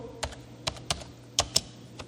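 A short command being typed on a computer keyboard in Ubuntu, about six distinct keystrokes in an uneven rhythm, close and clear with no voices.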